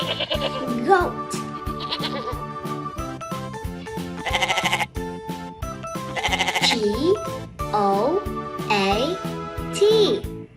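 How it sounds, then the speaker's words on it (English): A goat bleats repeatedly in loud, wavering cries over a steady rhythmic music backing. "G-O-A-T, goat."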